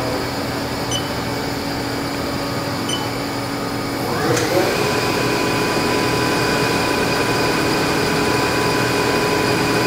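A Haas SL-30TM CNC lathe spindle runs up from 750 to 1500 RPM, giving a steady tonal machine whine that shifts upward partway through and then holds smooth and fairly loud.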